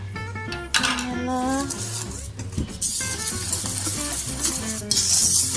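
Cake batter with half a cup of oil and vanilla is stirred in a bowl, with a utensil clinking and scraping steadily against the sides in a close, busy clatter.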